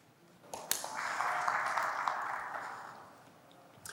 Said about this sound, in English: Let's give a big round of applause for Mr. Seaman Wilkinson.